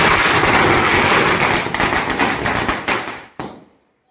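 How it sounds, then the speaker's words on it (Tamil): A long string of 5000 saravedi firecrackers bursts at Diwali in rapid, continuous crackling, loud and dense at first, then thinning into scattered pops before one last sharp bang and sudden silence. "சரி வாங்கப்பா நம்ம அடுத்த வெடி சரவெடி 5000 வாழை வைக்கலாம்."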